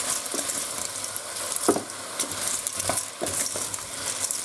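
Washed limpets going into a pan with ham for an Asturian dish, giving a close, continuous sizzle with scattered clinks and shell rattles as they are stirred.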